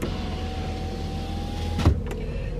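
Power window motor on a 2007 Santa Fe whines steadily for nearly two seconds, then stops with a brief thump, leaving only a quiet background hum.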